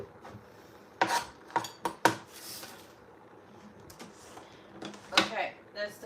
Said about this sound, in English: So I'm chopping up a block of chocolate.